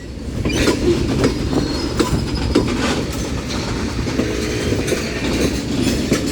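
A Union Pacific mixed freight train rolls past a road crossing at Central Avenue, a loud, steady rumble of wheels with rhythmic clickety-clack and faint squeals, heard close and continuous with no voices.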